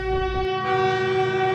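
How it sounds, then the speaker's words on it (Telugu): A train horn sounds in a long, steady, loud tone with rumbling wagon noise beneath it, heard alone for a brief moment. "సినిమాటిక్ సౌండ్ ఎఫెక్ట్లా ఎదురుగా ట్రైన్ సౌండ్ వినిపించింది."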